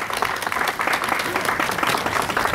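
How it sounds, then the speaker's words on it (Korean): Big round of audience applause at a folding-container presentation event, steady, dense clapping from a crowd, moderately loud and unbroken. "다시 한번 큰 박수 부탁드립니다"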